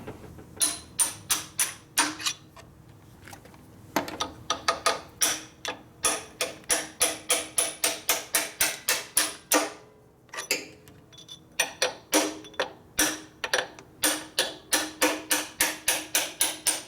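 Steady metallic hammer blows knocking parts out of a 1961 Harley-Davidson FL 74ci panhead engine during a rebuild, striking in quick rhythmic runs with brief pauses, close and loud with no talking.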